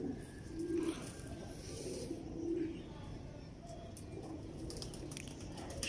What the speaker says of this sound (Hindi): बड़ा ही शानदार कबूतर है